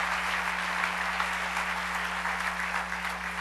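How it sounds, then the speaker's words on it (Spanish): A church congregation applauds steadily and loudly throughout, a dense wash of clapping with a low hum beneath and no voices rising above it. "Dale un aplauso al Rey bendito."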